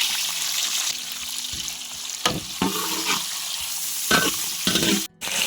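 Chopped onions hit hot oil with cracked cardamom and whole spices for chicken korma pulao, a loud, steady sizzle with stirring scrapes and a few sharp knocks, no talking.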